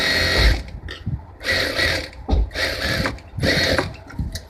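A sewing machine stitches a petticoat in short mechanical bursts, four rattling runs of clattering needle action separated by brief pauses, close and alone.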